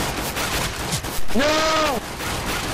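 Gunfire from players shooting each other in a Counter-Strike: GO death-run minigame, a continuous dense crackle under a shouted voice, with a bleating, sheep-like tonal cry rising and falling midway through.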